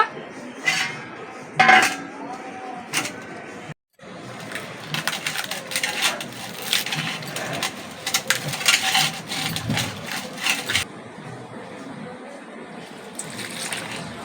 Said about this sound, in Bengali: এবার আমি তালটাকে ধুয়ে নেব।